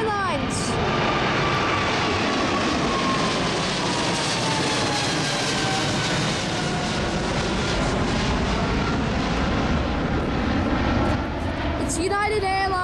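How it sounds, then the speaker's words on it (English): A United Airlines Boeing 777-200ER at Sydney Airport, bound for San Francisco, roars with loud, steady jet engine noise throughout, a rising whine audible over the wide rumble, with wind in the background. "United Airlines Boeing 777-200ER bound for San Francisco."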